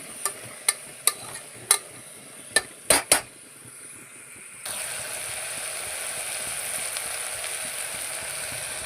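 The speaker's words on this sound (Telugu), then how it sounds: "పసుపు వాసన వెళ్ళేదాకా ఫ్రై చేసుకోవాలి" Cluster bean (goruchikkudu) curry with turmeric cooking in a pan, first a series of sharp metal clinks from stirring, then a steady, close sizzle of frying that continues alone to the end.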